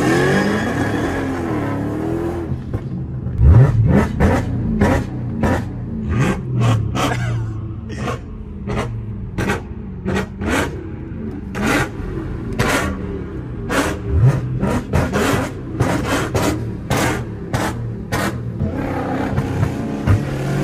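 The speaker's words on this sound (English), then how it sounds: "my belt is slipping so hard" Chrysler engine revving hard again and again with a slipping belt, giving a steady loud roar broken by rapid repeated squealing and chirping pulses throughout.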